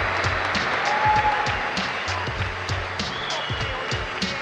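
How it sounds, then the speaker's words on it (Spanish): Crowd applause for two boxers after a ten-round professional bout, a dense, steady wash of clapping mixed with scattered thumps and crowd noise, with voices faintly in the background. "Fuerte el aplauso para estos dos grandes deportistas"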